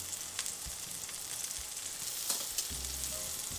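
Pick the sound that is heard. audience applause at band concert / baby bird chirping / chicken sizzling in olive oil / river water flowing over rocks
chicken sizzling in olive oil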